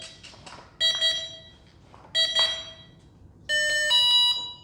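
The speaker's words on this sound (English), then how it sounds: "listening for the beep, beep, beep." The ESC on an E-flite V900 helicopter sounds three distinct electronic tone sequences of bright, steady, close beeps. Each is separated by a short quiet gap, and the last tone is longest.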